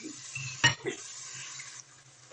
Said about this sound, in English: I'm about to put the eggs in the pan